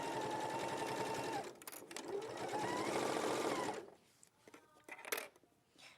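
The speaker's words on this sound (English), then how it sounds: "I'm going to sew all the way along on one side" A domestic sewing machine runs a regular construction stitch along one side of fabric, a steady close whirring motor drone that stops partway, followed by a few light clicks and handling taps.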